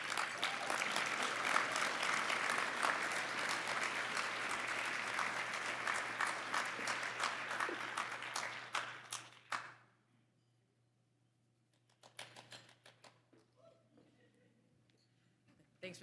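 A banquet audience applauds loudly and steadily for about nine seconds before the clapping dies away, followed by a brief scattered second burst of claps.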